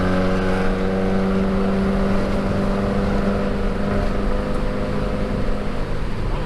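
Datsun 510 car driving in fourth gear, with a steady engine drone and low harmonic hum that holds constant throughout, heard from inside the car with no talking.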